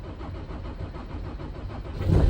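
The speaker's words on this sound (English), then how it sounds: "Start the engine and press OK." A Ford Transit 3.2 TDCi diesel engine, just fitted with a new fuel pressure regulator, cranks and runs as a steady close rumble that swells louder at the very end.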